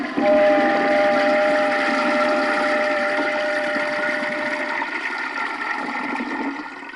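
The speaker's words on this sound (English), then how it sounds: "I'm pissing on your briefcase." A comedy sound effect from a 1972 comedy record gives urine splashing on a briefcase as a loud, continuous gushing water stream that slowly tapers over several seconds, with no talk.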